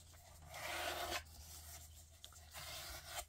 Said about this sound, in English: I'm going to give it a good rub down.